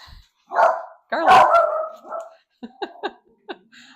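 A dog barks and yips nearby, a couple of longer drawn-out barks followed by a string of short, sharp yaps.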